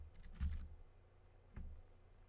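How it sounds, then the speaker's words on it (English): Soft clicks from a computer keyboard being typed on, two short bursts of keystrokes about a second apart, faint and close, with no speech. "I'm typing up in this case so that sometimes it would be easy for you to type up"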